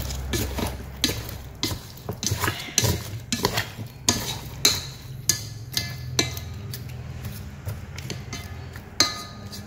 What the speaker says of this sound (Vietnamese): Mình trộn đều đi.